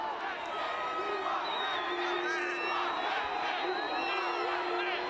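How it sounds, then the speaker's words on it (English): A college football crowd in a stadium chants during a Bobcat game against Weber State as a field goal attempt lines up, a distant continuous roar of voices with a commentator talking over it. "Crowd chanting, block that kick."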